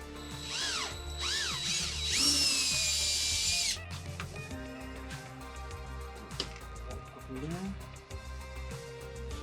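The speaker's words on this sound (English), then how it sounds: "Let's drill this hole first" A power drill whines loudly in bursts while drilling a hole, its pitch rising and falling as it bites into material, then cuts off, leaving quieter clatter and voices.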